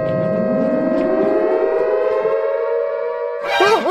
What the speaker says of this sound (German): Leute, ich schalte die Sirene ein.